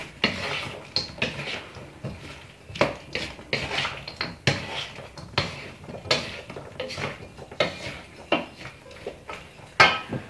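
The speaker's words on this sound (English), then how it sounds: "And I'm just stirring until my vegetables are coated in this sauce as well." Vegetables stirred into sauce in a stir-fry pan, with a steady run of scraping, clinking utensil strokes against the metal, close and fairly loud, continuing without pause.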